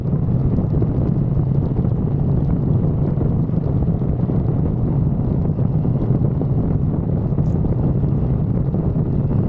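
A 1985 Suzuki GSX-R 750 motorcycle ridden on the road to the Calne Bike Meet, heard as a steady, loud roar of wind buffeting and low engine rumble that runs unbroken throughout, with no talking.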